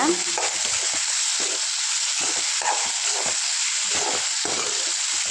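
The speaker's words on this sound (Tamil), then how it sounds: "தக்காளி வணக்கிக்கோங்க" Tomatoes sautéing in a hot pan for potato kurma, a steady close crackling sizzle with stirring scrapes breaking through at intervals, no talk.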